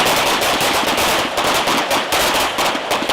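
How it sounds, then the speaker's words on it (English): Pistol gunfire from 9mm handguns during night firing training in darkness: rapid, overlapping shots crack continuously from several shooters at once, loud and dense with no pauses. "instructors introduce a new challenge, firing it in complete darkness."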